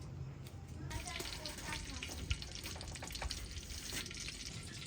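Ghee heating in a kadai on a village kitchen stove, a soft, steady sizzle and hiss at low level, with occasional faint clinks and a few brief sharper knocks.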